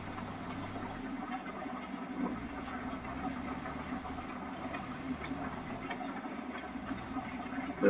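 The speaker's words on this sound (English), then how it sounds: "This tractor should run that pretty smoothly." A tractor engine runs in a farming video game, making a steady, even mechanical drone that holds at a constant level with no speech.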